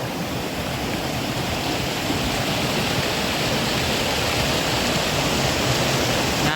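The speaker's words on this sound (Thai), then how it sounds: "ธรรมชาติงามร้ายเนี่ยน้ำตก" A countryside waterfall in Thailand pours in a steady, unbroken roar of rushing water that stays loud and even throughout, with no voices.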